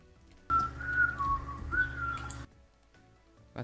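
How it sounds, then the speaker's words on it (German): A person whistles a short, wandering melody up close for about two seconds, a clear pure tone sliding between notes before stopping abruptly in a quiet room. "Was bedeutet dein komisches Pfeifen?"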